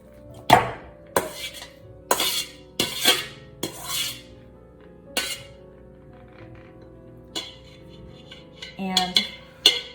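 Rice for sticky rice is scooped and scraped into a bowl with a series of sharp clinks and rasping scrapes, spaced irregularly, with a faint steady hum behind.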